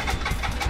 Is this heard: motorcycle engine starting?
yes